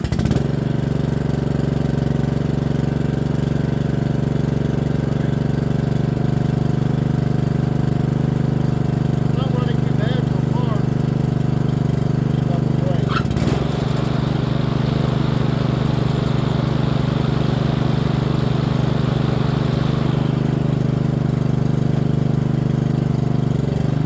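A Troy-Bilt riding mower's engine runs steadily after a small service, a loud continuous low drone close by with a brief clatter midway, voices faintly under it.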